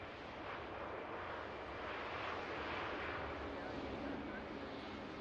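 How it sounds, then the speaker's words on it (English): A British Airways Airbus A320neo arrives at Manchester Airport on approach from London Heathrow, its steady broadband jet roar filling the air evenly and continuously at moderate distance, with no voices heard. "British Airways A320neo coming in from London Heathrow. Looking and sounding beautiful."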